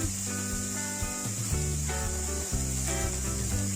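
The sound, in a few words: spices (chilli, turmeric, cumin powder) frying for masala pulao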